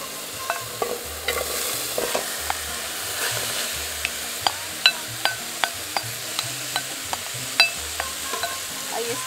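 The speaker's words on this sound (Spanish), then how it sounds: "Ahora voy a poner a la misma olla la verdura." Chopped onion, carrot, bell pepper and garlic fry in a pot for a Bolivian pot roast, a soft steady sizzle punctuated by sharp clinks and scrapes of a utensil stirring against the metal.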